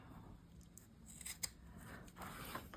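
Scissors snip through yarn while a tassel is being made, a few quiet, brief cuts heard close up against a faint background hiss.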